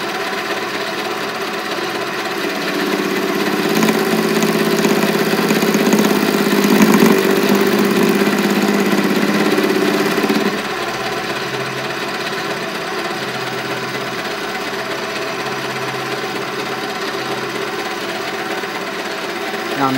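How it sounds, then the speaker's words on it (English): A mini lathe cuts a small bevel onto the edge of a machinist hammer head, giving a steady mechanical whir that grows louder and busier for several seconds as the tool engages, then settles back to a constant motor hum. "I'm cutting a little bevel in on the edge."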